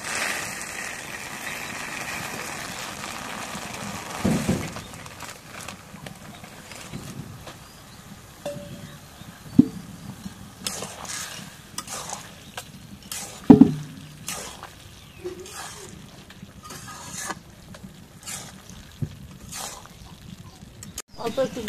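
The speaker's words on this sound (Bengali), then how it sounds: "এখন বুন্দিয়াটা ঢেলে দিই।" Boondi tipped into a pot of hot sugar syrup, giving a soft pouring rustle and low bubbling hiss with a few clinks of a utensil against the pan, close by under occasional talk.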